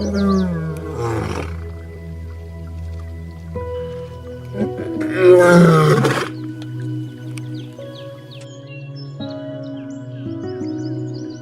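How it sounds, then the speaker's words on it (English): An Asiatic lion at Alipore Zoo roars loudly and close, a deep grunting call with a strong burst midway, followed by lower rumbling and background music. "The Asiatic lion."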